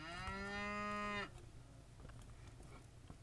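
A single long cattle moo, a loud, tonal, harmonic bellow of about a second played as the Trainz download helper sound effect, followed by quiet background noise.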